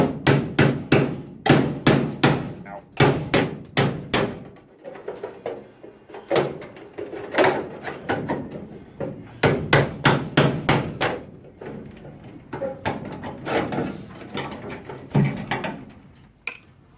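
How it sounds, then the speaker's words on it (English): A chisel is driven with a hammer against a Ford MKV Cortina body panel during restoration, giving clusters of loud, sharp metallic strikes in quick bursts with short pauses between them, close up. "Trying to whack it out."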